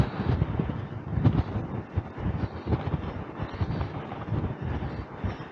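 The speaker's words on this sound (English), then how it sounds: "Very windy indeed." Strong, gusty wind buffets the microphone on a hiking trail in Fujairah, about 70 meters above sea level, a loud, continuous rumbling roar that surges and dips.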